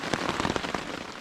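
After an all-night storm along the Pinhoti Trail in the morning woods, scattered drops patter down from the trees in irregular, crackly bursts, close and moderately loud, with a soft wet hiss between them.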